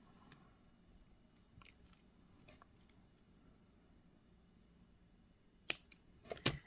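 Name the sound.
cutting excess wire for a beaded earring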